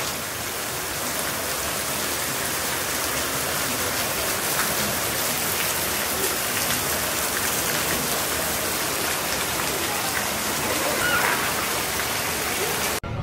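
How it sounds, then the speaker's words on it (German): Steady rain falling outdoors during a rainy spell while travelling by motorcycle, a dense, continuous hiss of drops on surfaces with no breaks, moderately loud and even throughout. "Es regnet eigentlich jeden Tag."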